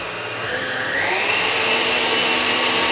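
An electric whisk beating sponge cake batter in a bowl, a loud continuous motorized whir that rises in pitch after a second and runs steadily before cutting off abruptly, close up and alone.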